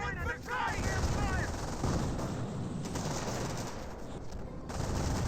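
A strafing run in Company of Heroes rattles out as sustained bursts of game gunfire, dense and continuous across the whole stretch, fairly quiet in the mix with a short tonal chirp near the start.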